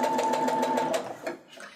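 Sewing machine running steadily as it stitches quilt fabric pieces for a half square triangle block, a close, continuous mechanical whir that stops near the end.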